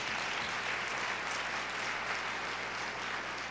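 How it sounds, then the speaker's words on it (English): An audience at a Rural Day 2019 policy session claps in a steady, sustained round of applause, a dense even patter of many hands that continues throughout. "So let's give Mignon and Katherine another round of applause."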